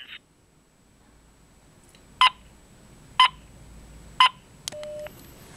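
Three evenly spaced DTMF dialing tones from a BlackBerry 8520 on speakerphone, clear and close, then a short beep and a sustained tone as the test call connects, with no talking.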